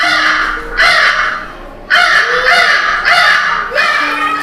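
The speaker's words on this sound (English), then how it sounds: "Yes, that was the sound of crow." A crow caws in a few loud, harsh bursts separated by short gaps, heard close and clear against a quiet background with no talking.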